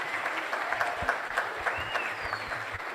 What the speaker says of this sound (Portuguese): mais uma última salva de palmas para todos